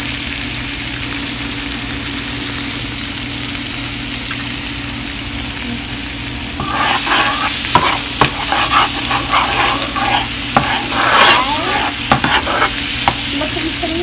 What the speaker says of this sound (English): I'm mixing it all around now